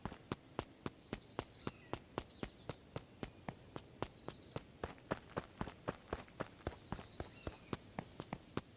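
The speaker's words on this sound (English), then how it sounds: "Luca heard a group of footsteps approaching." Footsteps of a group approaching in the video game Beacon Pines, a steady, evenly spaced run of sharp thudding steps repeating for several seconds at moderate volume with faint ambient sounds beneath.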